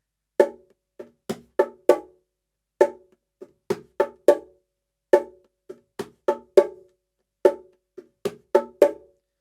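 Bongos played by hand in a repeating rhythm of ghost notes, tones and sharp high accents, crisp dry slaps and taps in clustered groups with clear silence between, close and solo with no talking.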